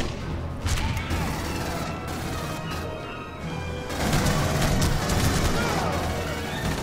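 Heavy explosive fire and crashing blasts from combat in Aliens: Colonial Marines rumble loudly and continuously, with a sharper, louder burst partway through.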